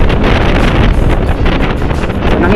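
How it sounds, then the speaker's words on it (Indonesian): Strong wind buffets the microphone while riding a Honda Vario 125 scooter on the road toward Bangkalan near Suramadu, a loud, continuous rushing roar with gusty fluctuations. "anginnya lumayan kenceng ya"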